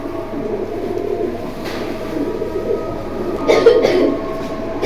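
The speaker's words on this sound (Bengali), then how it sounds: "দর্শক দেখেন এখানে এক পেয়ার বাগদাতি হুমা আছে" Pair of Baghdadi Homa pigeons at a market in Keraniganj, Dhaka, cooing softly under a steady background rumble, with a louder burst of activity near the end.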